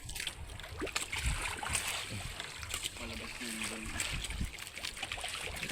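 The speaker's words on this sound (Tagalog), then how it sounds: "Lakas ng hangin par." Strong wind gusting over open sea during night fishing from a boat, a steady broadband rush with water splashing against the hull and people talking now and then.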